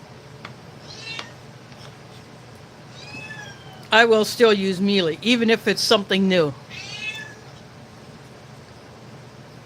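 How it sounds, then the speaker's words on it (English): Pumpkin, an unaltered female cat in heat, lets out a rapid string of loud, drawn-out, wailing meows near the microphone, after a person speaks briefly over quiet room noise. "Pumpkin is meowing pretty loud because she's having that time."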